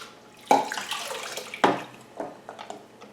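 Water splashing and trickling as an orchid growing in a glass container is watered, two sharper pours standing out, close and clear.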